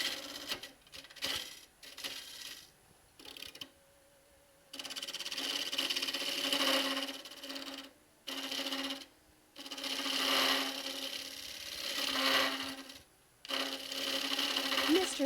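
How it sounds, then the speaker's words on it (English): A thin woodturning gouge chatters against spinning wood on a lathe, producing repeated bursts of rough, rattling buzz, several seconds each, broken by brief pauses. "Starting to get some chatter in there."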